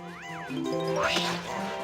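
A pet cat named Wanda meows close by, one drawn-out rising and falling cry followed by a brief second call, with faint game music tones running underneath.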